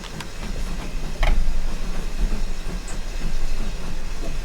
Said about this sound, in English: That is a steam loco.